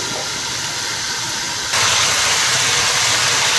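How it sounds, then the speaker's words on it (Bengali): Ash gourd fries in a covered pan with a steady, loud sizzling hiss that grows brighter and stronger partway through. "এবার আমি ঢেকে দিয়ে জালি কুমড়োগুলো কষিয়ে নেব।"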